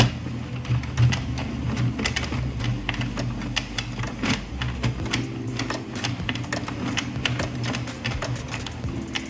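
An Addi Express knitting machine is cranked steadily while knitting scrunchies, giving a continuous, close clatter of rapid mechanical clicks and ticks with no pauses.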